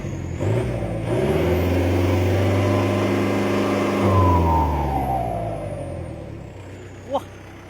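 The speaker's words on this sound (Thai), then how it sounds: "เดี๋ยวผมจะเร่งให้ดูนะ" A truck engine revved up, its loud droning pitch rising and then falling away as it settles, close by, with a brief sharp sound near the end.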